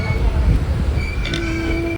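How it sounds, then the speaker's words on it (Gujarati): A train standing at Damnagar station in Gujarat, a steady low rumble and hum with a sustained tonal whine appearing partway through, fairly loud and close. "જો તમે જોઈ શકો છો ટ્રેન ઊભી રહી છે અહીંયા."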